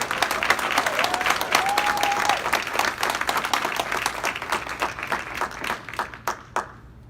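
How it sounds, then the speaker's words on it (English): An evening awards-event audience bursts into loud, sustained applause that thins to a few scattered claps, with a brief cheer near the start. "A big round of applause for Brittany."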